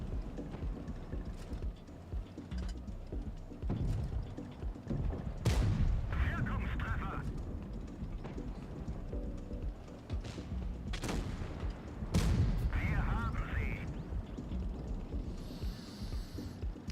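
Heavy tank cannon shots from an E-50M in a tank battle game, a few loud booming blasts spaced several seconds apart over a constant rumbling engine bed, with someone talking throughout.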